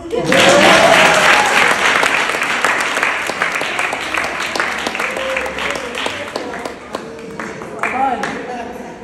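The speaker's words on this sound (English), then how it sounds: "A round of applause for me." An audience applauds at a panel discussion on culture and the LGBTQI+ community. Clapping swells loudly at first, then thins and fades beneath a speaking voice.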